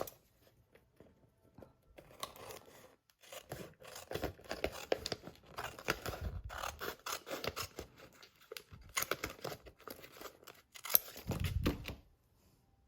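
Scissors snip through folded paper for a papercraft accordion pouch: quiet, close, intermittent cuts and rustles in short bursts with pauses, no talking.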